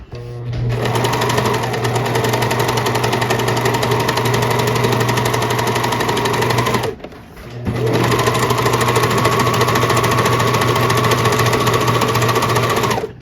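A serger sewing machine with loosened tension stitches in a loud, steady, fast mechanical whir at close range, stops briefly midway, then starts up again and runs to the end.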